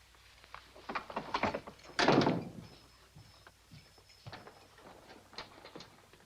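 A door thuds shut with a solid knock, followed by faint rattling clicks and knocks of a lock being worked, quiet and close in an interior.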